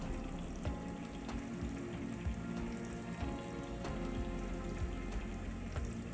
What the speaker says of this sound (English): I think now we can open the faucet, probably, to flood the room